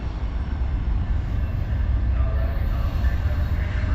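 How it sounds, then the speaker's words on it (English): Amtrak's California Zephyr, train number 5, passes through Martinez, California with a steady, loud rumble that holds for the whole stretch, broad and low. "here comes train number 5."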